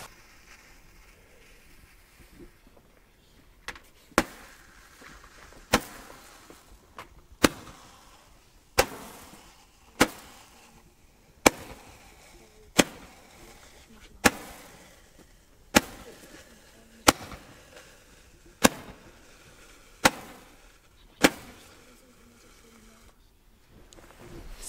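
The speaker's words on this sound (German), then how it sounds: "Jetzt noch das römische Licht." A small roman candle firework from a family assortment fires a regular series of about fifteen sharp, hollow pops, evenly spaced roughly a second and a half apart, close by, with quiet background between shots.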